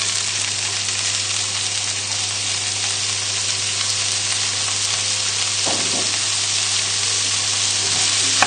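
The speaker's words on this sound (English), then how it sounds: "we're just going to sweat the leeks down" Leeks sweating in a hot pan, a loud close continuous sizzle with a steady low hum underneath and one brief stirring scrape partway through, no one talking.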